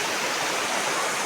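A waterfall at Praça da Caneca Fina in Guapimirim, Brazil, gives a steady, dense rush of falling water, continuous and fairly loud throughout the short stretch, with no voices over it.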